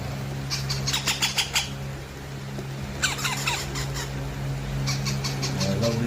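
Sun conure parrot chicks being hand-fed squawk in short bursts, a quick run of four or five sharp calls, then another cluster and a later group, close by over a steady low hum.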